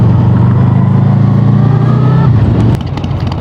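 A Harley-Davidson Sportster 883 V-twin rumbles loud and close in a steady low drone while riding, then the note drops and thins near the end.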